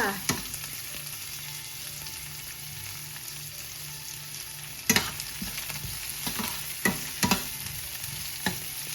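Onions sizzling and frying in a pan for a buttered Italian eggplant side dish, a steady hiss with scattered clacks of a utensil stirring, close and without talk.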